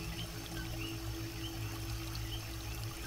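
Water pours steadily from a rainforest waterfall, a constant soft rushing with no pauses, gentle and even at low level.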